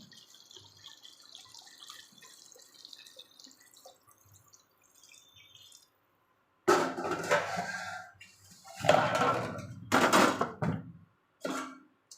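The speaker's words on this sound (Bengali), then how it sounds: "এবার আমি ঝোলের জল দিয়ে দেবো।" Water poured into a pan of fried, spiced rohu fish and potato curry: after a stretch of faint simmering and drips, loud splashing, hissing bursts come in several surges, then cut off abruptly.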